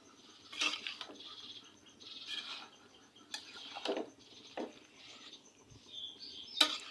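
A pot lid comes off and raw jackfruit curry with potatoes gets stirred, giving scattered light clinks and scrapes of a spoon against the pot, close but quiet and uneven.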